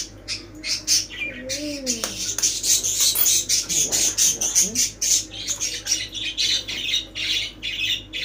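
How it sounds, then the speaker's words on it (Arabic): Sparrows chirp and squawk in rapid, overlapping bursts nearby, a busy twittering chorus with a brief low voice early on. "بصوا العصافير بتتكلم بدالي يا جماعة، هما يلاقوني بعمل فيديو يفضلوا كده صوتهم يعلى"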